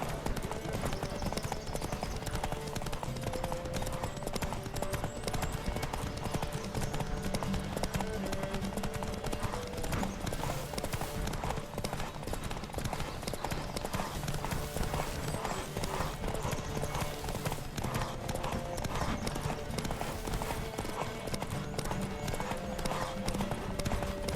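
Steady hoofbeats of a galloping horse in the video game The Witcher 3: Wild Hunt run throughout, a busy rhythmic clatter mixed with layered background sound and occasional voices.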